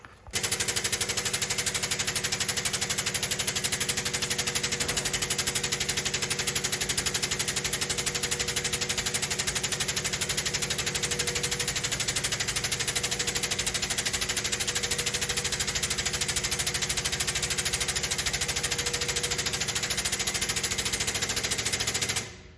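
A press deep-drawing a cylindrical metal cap from a 30 mm blank runs with a loud, rapid mechanical chatter, steady and continuous for over twenty seconds.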